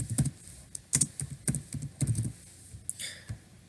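Fingers typing a code comment on a computer keyboard, a quick uneven run of close, crisp key taps with short pauses between bursts.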